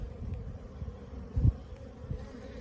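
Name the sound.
honeybee drones in a crowded hive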